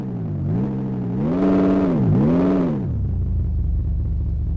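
A junker car with a 5-speed manual gearbox pulls away, its mid-pitched engine revving up and easing off twice before settling into a low, steady rumble near the listener.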